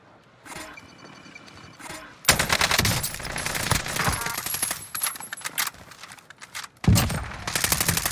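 Automatic rifle fire from a Call of Duty Warzone match on Rebirth Island, loud rapid bursts and overlapping shots that come in dense clusters after a quieter opening, with a sharp new volley near the end.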